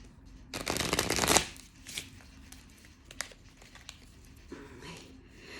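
A deck of Chakra Tarot cards being shuffled, a loud burst of riffling near the start followed by a few softer card flicks and taps, close by with no talk.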